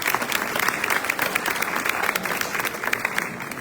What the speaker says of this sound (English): Let's give Kelly a round of applause.